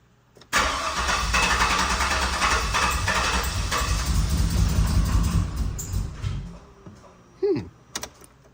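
A turbocharged 6-litre engine cranks on the starter, then catches and runs roughly with heavy misfires, loud and close for several seconds before dying away, followed by a couple of brief mechanical bursts.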